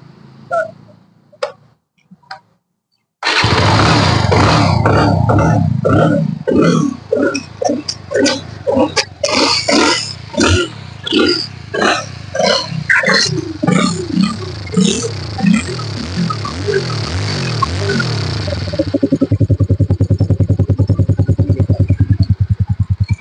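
A motorcycle engine cranks, catches and settles into a loud, steady idle with a rapid, ticking rhythm close by.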